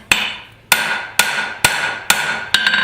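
A rounding hammer forging thin steel on an anvil for a garden cultivator, six loud ringing blows about half a second apart, each with a long metallic decay, close and without talk.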